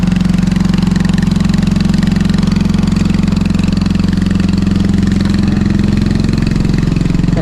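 A broken-down motorcycle engine idles loud and close, a steady low throbbing drone that holds unchanged throughout, with no voices over it.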